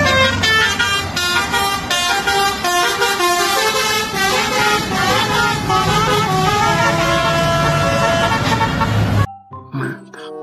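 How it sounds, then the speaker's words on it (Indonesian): Pandawa 87 tour bus sounding a loud musical multi-tone horn, a continuous melody of stacked tones for about nine seconds before cutting off abruptly, with fainter traffic noise after. "Kali ini ada bus Pandawa 87 Herbie teman-teman."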